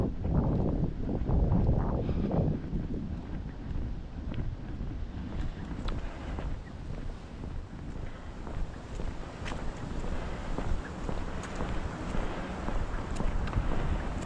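Strong wind gusts roar against the microphone on a chilly night walk in Maine, a constant low rumble and buffeting with faint footsteps and rustling underneath, and no voices.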